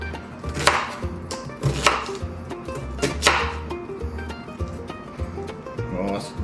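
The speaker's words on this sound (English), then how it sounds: "We're still chopping. Just chopping." A knife chops food on a cutting board while ham hock soup beans are prepared, giving a steady run of sharp, close, repeated chops at an uneven hand rhythm.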